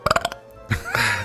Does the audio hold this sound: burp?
yes